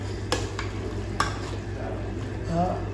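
Duck meat stewing in a pot as a utensil stirs it, soft scrapes and clinks over a steady low simmer and sizzle, close by, with no talk.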